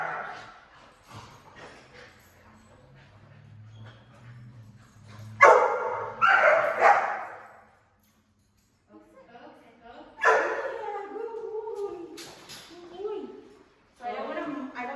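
A dog barks and yips in a dog training class, in sharp bursts that separate into several loud clusters with quiet gaps between them, and people speak at times among the barks.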